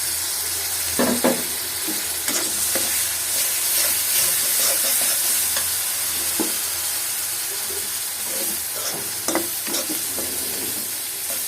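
Shrimp frying in spice paste of chili and garlic paste sizzles and hisses steadily in the pan, with scraping stirs and spatula clacks close by.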